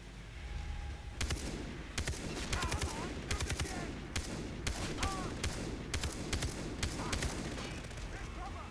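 Rapid bursts of gunfire from the Far Cry 3 video game, with repeated sharp shots and short volleys over a steady background rumble throughout.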